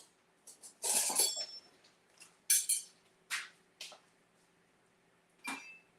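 Knife and fork cutting into a baked layered eggplant and minced meat sauce dish, a few scattered scrapes and clinks against the dish, close and fairly quiet, with pauses between.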